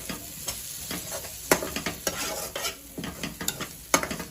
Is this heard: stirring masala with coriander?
yes